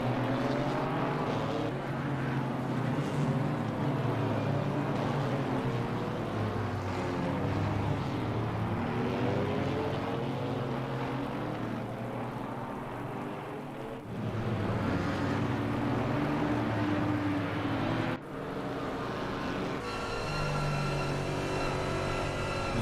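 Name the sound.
GT4 race car engine in a PC racing video game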